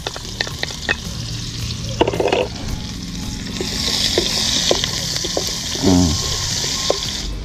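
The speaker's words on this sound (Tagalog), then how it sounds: "Igisa na natin yung ating bawang at sibuyas." Garlic and onion sautéing in hot oil in a pan, a steady sizzle with intermittent stirring scrapes and clinks, close up, with occasional brief voice sounds.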